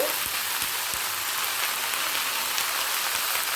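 Stem greens fry in a pan over a lowered gas flame, a steady close hiss of sizzling with faint scattered pops throughout.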